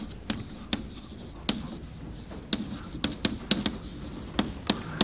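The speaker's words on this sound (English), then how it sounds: "so let me write that down" Chalk or pen writing by hand during a linear algebra lecture, with scratchy strokes and sharp taps at an uneven rhythm over faint room noise, fairly close and without talk.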